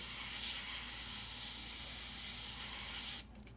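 An airbrush sprays paint onto a Mustang hood, a continuous fine hiss held steadily for about three seconds before cutting off abruptly, close and alone.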